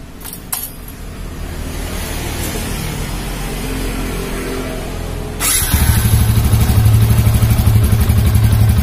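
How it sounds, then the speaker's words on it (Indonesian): An old Yamaha Vixion motorcycle fitted with Scorpio clutch plates, fresh from an oil and oil filter change, rattles briefly, then its engine starts and settles into a loud, steady, close idle. "kita hidupkan motornya"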